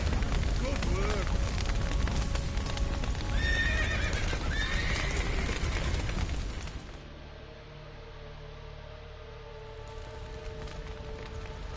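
Horses whinny and neigh several times in a Witcher 3 game scene, with hooves clip-clopping and a busy, noisy background for the first half. Voices talk in between, and a quieter stretch with a low steady ambience follows.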